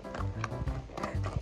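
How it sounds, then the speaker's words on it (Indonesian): A ridden horse clip-clops with a few close hoof strikes in an uneven walking rhythm, heard briefly with no talk over it. "sambil nge-vlog sambil naik kuda dan sendiri"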